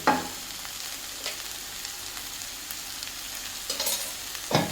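Garlic chicken with turmeric and salt sautéing in a pan over a medium flame: a continuous hissing sizzle broken by a few sharp scrapes and knocks of stirring.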